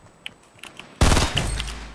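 A burst of rapid gunfire erupts in the video game Fortnite after faint distant pops, a loud, dense rattle of shots that tails off into scattered cracks.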